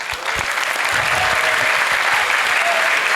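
Steady, dense applause from a large crowd at a boarding school gathering, loud and sustained throughout with a few scattered sharper claps and faint voices mixed in.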